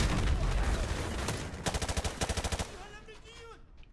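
Rapid bursts of automatic gunfire from enemies in a remastered shooter campaign, a dense volley followed by a rhythmic string of close, loud shots that trails off into quieter game sounds.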